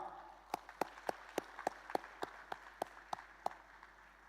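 Sparse, evenly spaced claps, about a dozen sharp hand claps in a steady rhythm, quiet and roomy, sounding like a few people applauding in a large congress hall.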